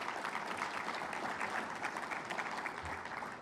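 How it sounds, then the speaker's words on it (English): An audience at a swimming coaches' association member meeting breaks into steady, moderately distant applause, a dense patter of many hands clapping without pause. "So another quick round of applause."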